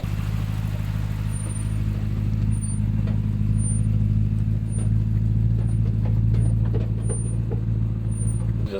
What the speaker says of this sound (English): Yeah, the drive shaft's just flopping around.